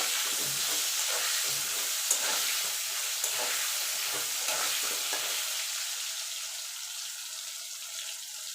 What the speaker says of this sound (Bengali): একটুখানি হলুদ গুঁড়ো একটুখানি নুন দিয়ে লাল লাল করে ভেজে তুলে নেবো